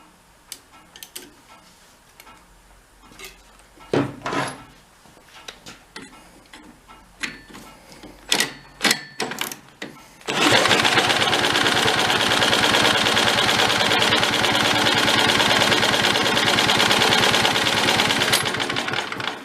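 A cheap forgotten antique military engine with a suspected spark problem is cranked over in several uneven, sputtering bursts, then catches and runs in a loud, steady, rapid chugging drone that fills the rest of the clip.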